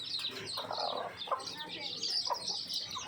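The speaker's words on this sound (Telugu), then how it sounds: "బిర్యానీ తింటున్న కోడి పిల్లలు" Small chicks chirp in a busy high-pitched chorus, constant peeping close by, with soft clucks and faint rustling underneath.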